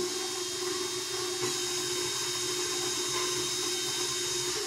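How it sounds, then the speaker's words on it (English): A constant high-pitched whine and rattling hum of a faulty KitchenAid stand mixer motor running steadily, loud and close throughout. "then I start my machine. I'm having troubles with my KitchenAid again."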